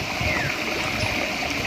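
Spring water running into a tilapia pond, a continuous close rushing and splashing flow, steady and fairly loud throughout.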